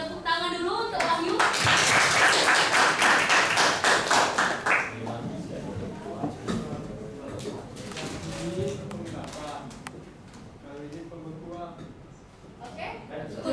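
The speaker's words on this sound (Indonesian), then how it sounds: "Tepuk tangan dulu untuk Wahyu." A classroom of students claps for a classmate during a lesson on the rock cycle: a burst of many hands clapping quickly for a few seconds, then scattered claps fading under a teacher and children talking.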